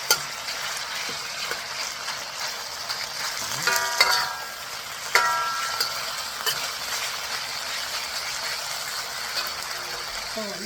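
Mongolian beef stir-fries over a butane stove, a steady hiss of sizzling with clanks and scrapes of a utensil against the pan, clustered around the middle; no talking.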